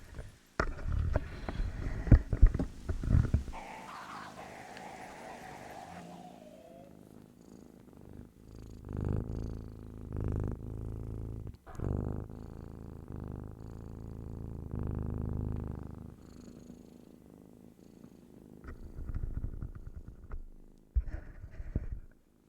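Low, steady purring from a pet cat resting right on a microphone, a continuous rumbling throb lasting most of the stretch, with some brief clatter near the start and soft handling noise toward the end.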